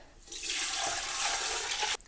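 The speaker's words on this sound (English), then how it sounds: "Next step is just to pour all of the stock inside." Chicken stock poured into a cooking pot over onions and chicken, a steady close splashing gush of liquid lasting about two seconds before stopping abruptly.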